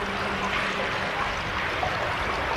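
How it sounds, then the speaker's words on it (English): Water rushing steadily through a graffiti-covered tunnel from a river, like a small waterfall: a continuous, even, fairly loud wash of flow that stays constant throughout with no voices. "The water is just like flowing"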